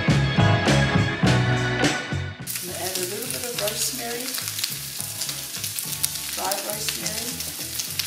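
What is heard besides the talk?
leftover pulled pork and potatoes browning in a pan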